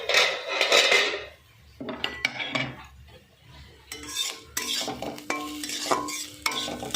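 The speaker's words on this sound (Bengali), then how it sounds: "এবার সেদ্ধ করে রাখা চাউমিনটা দিয়ে দিচ্ছি। এবারে কিন্তু আমি মিশিয়ে নিচ্ছি, একসঙ্গে সব কিছু" A spatula scrapes and clinks against a pan while boiled chow mein noodles are stirred into fried egg, chicken and chopped green chilli. The bursts of stirring and metallic knocks come close up, with no talk.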